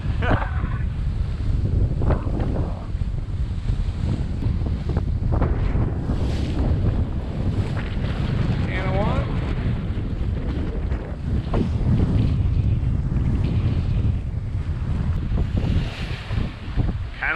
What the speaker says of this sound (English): Just sort of sailing close hauled, kind of going right into the chop.